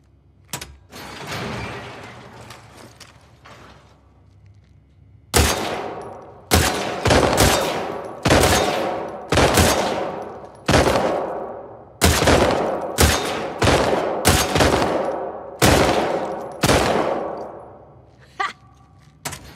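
A target-shooting contest in The Last of Us Part II: loud, close gunshots fired one at a time at a steady pace, about a dozen sharp cracks with ringing decay after some quieter handling sounds at the start.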